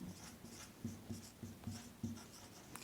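A pen writing on paper, faint close scratching in short repeated strokes with small pauses between words, heard alone without talk.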